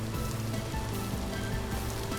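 Rain pours steadily in the game Vintage Story, an even, unbroken hiss of drops across the whole stretch, with faint low tones underneath.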